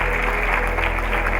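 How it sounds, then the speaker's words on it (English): Steady applause from an audience at a baking competition's awards ceremony, dense and continuous throughout the short moment, with no voices standing out. "Please give a big round of applause for all the teams."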